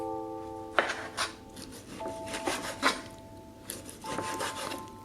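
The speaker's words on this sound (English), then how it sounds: "Once it's cooled, we can cut our beef to thin slices." A knife slices cooled braised beef into thin pieces, making several short rasping strokes in quick clusters, close and quiet, with a faint steady hum behind.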